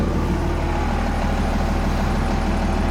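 A first-generation Dodge truck diesel engine idling after a hard run, a dense, steady low rumble with an even mechanical churn, close and unchanging throughout.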